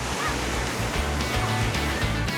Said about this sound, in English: At the beach, we jump the waves. I like the ocean.